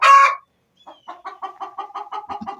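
A hen in a coop on a warm day, clucking after laying an egg: one loud squawk, then a quick run of rhythmic clucks, close and clear, with no talking.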